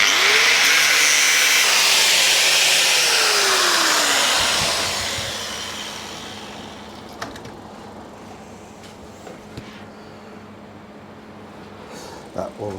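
A heat gun warms material to shape it for a Triumph America rear light, blowing with a loud steady whoosh for about four seconds before switching off, leaving quiet clicks and handling noises.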